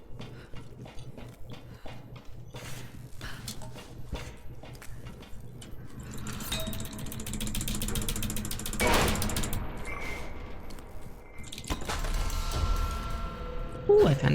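Bolts on an elevator being loosened in a video game, giving a long run of ratcheting mechanical clicks and grinding that swells in the middle, with game noise and occasional talk around it.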